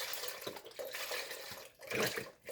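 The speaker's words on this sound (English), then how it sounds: "So I'm just going to pour my 1 liter of milk inside my pot." One liter of milk poured all at once into a cooking pot for a South African milk tart, a steady liquid splashing and gurgling stream that swells near the end, with no talking over it.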